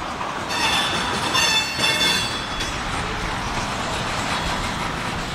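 A Union Pacific diesel freight train, led by three foreign-power locomotives, rolls past near CPKC yard with high metallic wheel squeals ringing over a steady rumble of rail cars.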